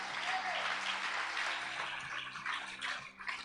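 Sustained applause from a church congregation during a sermon, dense steady clapping filling the room for the whole stretch, loud and continuous with no speech over it.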